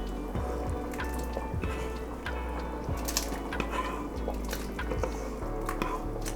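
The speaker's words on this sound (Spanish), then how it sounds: "Ahora vamos a agregar el jitomate cortadito." Chopped tomato tipped into a pot of beef broth, giving soft wet drips and squishy plops over a steady low simmering hum, close and moderately quiet with no talking.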